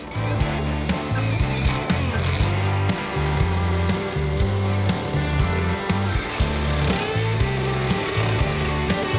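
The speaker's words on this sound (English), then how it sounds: "I say we go get the jigsaw and cut through the hardy board and the T111 all at once." A jigsaw cuts through Hardie board and T1-11 siding, its blade chattering in a fast, steady rhythm with short pauses, loud and close throughout.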